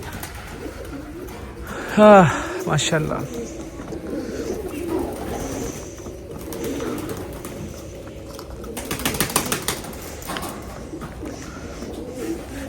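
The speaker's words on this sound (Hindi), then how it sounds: "अब कबूतर भी खुल गए हमारे" Pigeons coo on a farm, with one clear nearby coo early on and other bird sounds in the background, while someone speaks briefly.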